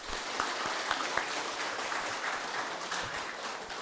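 A congregation applauds during a Sunday church service, giving a sustained wash of clapping from many hands that sounds soft and somewhat distant, with occasional crisper claps and no speech.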